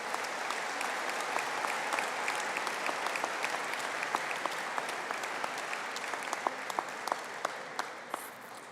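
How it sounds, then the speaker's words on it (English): Graduation ceremony audience applauding business degree graduates at a conferring ceremony, a dense, sustained wash of many hands clapping throughout, loud and even with a few sharper nearby claps standing out. "give a round of applause to the Bachelor of Business graduates"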